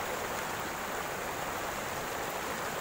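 A river's flowing water near a gold-mining site: a steady, close, full-bodied rush with no breaks and no voices over it.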